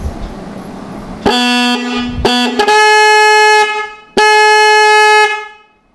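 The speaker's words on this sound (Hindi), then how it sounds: "ये देखो ये हमारा हॉर्न एकदम रिपेयर हो गया और ठीक से बज रहा है, जैसा नया बजता है वैसा बज रहा है।" A repaired vehicle horn honks in several loud, sustained blasts with short gaps, close and clear with no talking over it.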